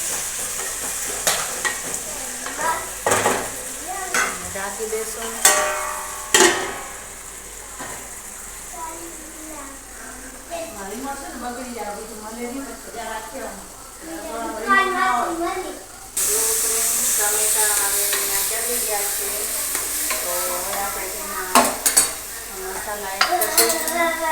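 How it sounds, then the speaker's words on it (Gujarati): Masala Maggi with tomatoes and chillies stirred in a pan, spoon scrapes and metal clinks over a frying sizzle that grows louder and steamier partway, with talking layered over it. "તો હવે સારી રીતે હલાવી લઈશું"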